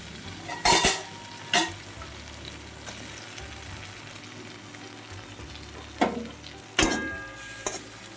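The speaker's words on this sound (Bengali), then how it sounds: "এইভাবে হালকা আঁচে 1 মিনিট মশলাটা কষাতে থাকে।" Spice masala with chopped tomato and a little water stirred and fried over low heat for a prawn dish, a soft continuous sizzle broken by several sharp spoon-on-pan clanks, close and with no voices.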